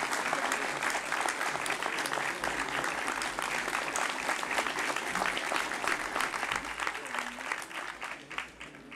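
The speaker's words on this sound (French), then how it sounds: "je voudrais que vous applaudissiez le maire de Friedberg, Dirk Ankowiak." An audience at a 2020 New Year's greetings ceremony claps for the visiting mayor of Friedberg, a sustained, dense round of applause that holds steady and starts to thin out near the end.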